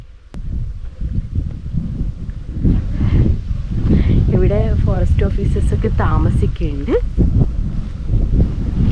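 Strong wind buffets the microphone with a low rumbling roar in forest near Keerippara camp shed, Silent Valley National Park, Kerala, while someone talks over it and birds chirp faintly in the background.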